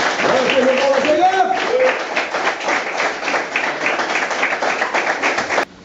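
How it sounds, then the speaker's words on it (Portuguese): Church congregation clapping in praise, a continuous dense wash of applause with a voice carrying over it, ending abruptly. "vamos adorar o Senhor Jesus com nossa salva de palmas ao Senhor Jesus"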